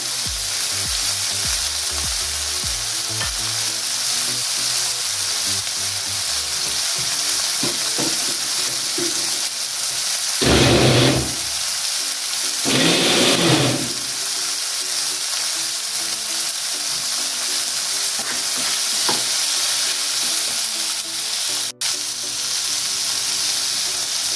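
Onions frying in a pan for chicken rogan josh, a dense continuous sizzle and hiss that stays loud and close throughout. Two brief bursts of stirring or spattering come partway through, and no one speaks.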